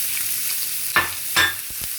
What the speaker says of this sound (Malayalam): ചെറുതായിട്ട് അരിഞ്ഞ സവോള നമ്മൾ അതിനകത്തിട്ടൊന്ന് മൂപ്പിച്ചെടുക്കാം